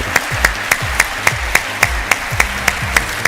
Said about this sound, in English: Whoever's clapping should be smashed.